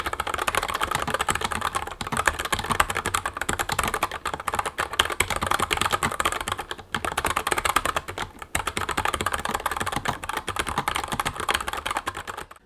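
Steady, continuous typing on a NuPhy Air75 low-profile mechanical keyboard with red switches, rapid clicky keystrokes, close and fairly loud, no voices.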